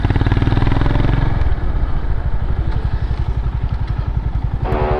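A Royal Enfield Himalayan 450 motorcycle engine idles close by with a steady, even thumping pulse, loud and alone, the tone shifting slightly partway through.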